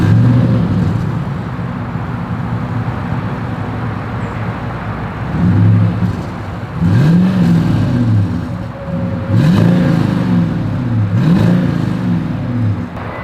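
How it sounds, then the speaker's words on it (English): Exhaust of a 2022 Toyota Sequoia with a single outlet: a steady idle rumble broken by three or four rising and falling revs, close and loud, with no voices. "As always, here is that exhaust clip."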